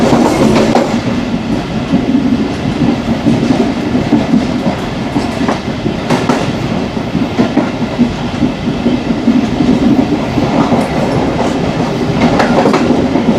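A Pakistan Railways train out of Peshawar Cantt rumbles past Mangyala railway station, heard from the guard's cabin as a loud, continuous roll with rhythmic clickety-clack of wheels over rail joints and occasional sharper knocks.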